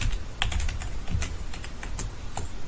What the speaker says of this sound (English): I'm just typing this up.